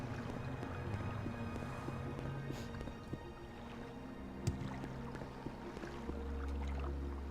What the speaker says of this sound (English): Oh, there's the boat.